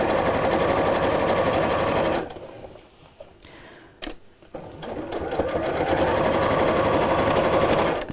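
A sewing machine stitches in a fast, even whir, pauses briefly with a few clicks and handling sounds, then resumes running steadily up close.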